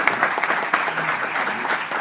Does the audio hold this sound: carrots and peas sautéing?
no